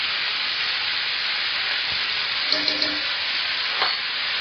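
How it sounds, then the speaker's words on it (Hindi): Tomatoes and spices for matar paneer frying in a pan, with a loud, steady hiss and sizzle throughout and a few faint utensil taps as they are stirred. "इसे अच्छे से मिक्स कर लेंगे, थोड़ा फ्राई करेंगे इनको"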